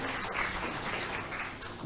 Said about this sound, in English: let's express our gratitude with the usual way, with a round of applause